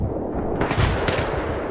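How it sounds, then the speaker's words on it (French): Rapid gunfire in the video game Battlefield 3, a dense rattle of automatic shots with sharper bursts in the middle, loud and close with no talking. "Tirez les gars, tirez."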